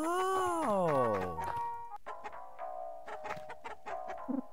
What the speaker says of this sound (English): You're a big rooster.